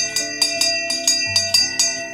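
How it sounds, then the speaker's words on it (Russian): Coachman's harness bells from the old Irkutsk–Yakutsk post road, each small bell with its own pitch, rung one after another in a quick, steady series of about eight bright strikes close to the mic. "вот этот колокольчик, вот этот колокольчик, видите, совершенно другие звуки"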